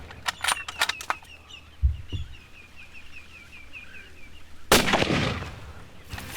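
A hunting rifle shot in the African bush, a few sharp cracks early on and a loud blast near the end, with birds calling in between.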